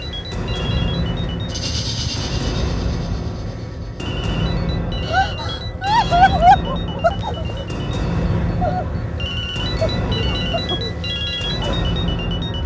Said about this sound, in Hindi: इसी बैग में से मोबाइल की आवाज आ रही है सर।